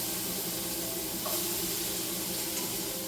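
Chopped bottle gourd sizzling in hot oil with green chillies and panch phoron, a steady, loud continuous hiss with no talking over it.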